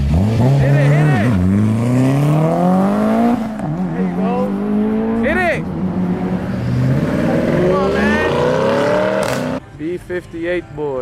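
Cars pulling out hard from a night car meet in Illinois, with GT350s and turbocharged cars among them, engines revving and rising through gears up close, several passes in a row with spectators shouting over them.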